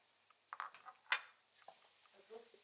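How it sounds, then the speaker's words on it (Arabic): Washed rice is tipped into a cooking pot over softened onions, giving a few faint scattered clatters and one sharper metallic clink, close by in a quiet kitchen. "هنزل الرز بتاعي اللي انا غسلاه."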